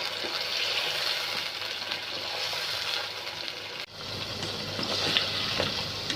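Chicken pieces frying in a pan for white chicken karahi, a continuous dense sizzle at moderate level with a brief dip partway through.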